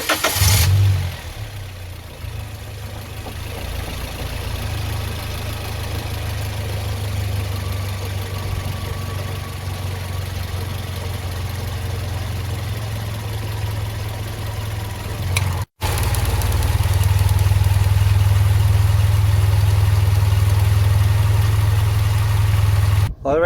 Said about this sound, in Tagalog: we are about to start the engine